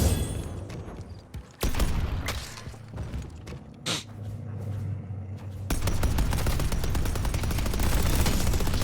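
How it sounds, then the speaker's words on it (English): Gunfire from a turret in a video game, with clustered shots early on, then a dense, loud, sustained stretch of rapid firing toward the end, and no talking. "Setting up a turret."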